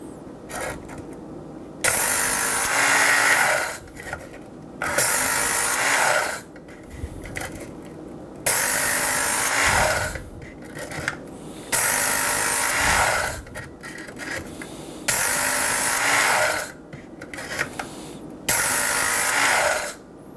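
Work Sharp electric knife sharpener running a knife blade across a 220 grit belt in repeated passes, with five strokes per side repeated twice; each loud gritty grinding burst lasts about two seconds, separated by short quieter pauses, and no one speaks.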